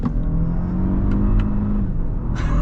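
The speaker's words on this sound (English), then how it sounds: "this actually lets you bounce off of the rev limiter" Steady engine rumble from a 2022 Lexus LX600 F Sport at high revs, with a few sharp stuttering cuts as it bounces off the rev limiter, close and loud.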